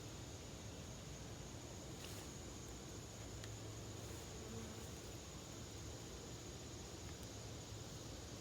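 Honeybees humming around an open hive during an August inspection, a faint, steady buzz spread over quiet outdoor hiss with a few brief louder passes.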